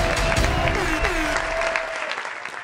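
Studio audience applause at a French-language television show, steady dense clapping from the start that thins toward the end, with a voice speaking briefly underneath.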